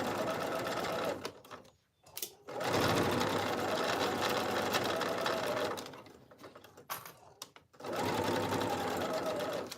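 Sewing machine stitching a seam on a jacket, close and loud, running in long steady whirring bursts with short pauses between them as pins and clips are removed.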